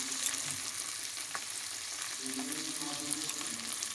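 Cauliflower fries in a pan for a vegetable soup, giving a steady close sizzle with light crackles and occasional stirring sounds, no voices.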